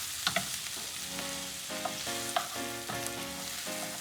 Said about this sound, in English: you're gonna go ahead and add in your Brussels sprouts